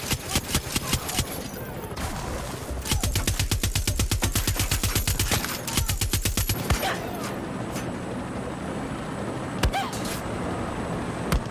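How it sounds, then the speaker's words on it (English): Gunfire aimed at the player in Far Cry 6, with rapid automatic bursts of loud, close shots in steady rhythmic volleys, scattered single cracks before and after, and a rumbling combat backdrop. "Fuck, who's shooting me?"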